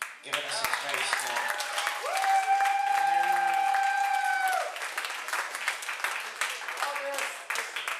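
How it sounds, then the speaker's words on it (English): Comedy show audience at the Elbow Room breaking into a round of applause, steady clapping and cheering that swells then trails off, with a sustained whoop or whistle mid-clip and voices around it. "So, give him a round of applause."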